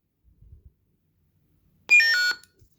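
A single short electronic beep from a toy lightsaber, bright and tonal, sounds after a few soft clicks, then quiet.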